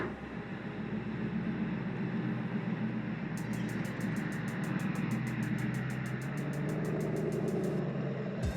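Devel Sixteen hypercar on the Dubai Autodrome track, its engine a steady low rumble under a faint interior hum, with a rapid ticking pulse joining midway and a sudden low thump at the very end.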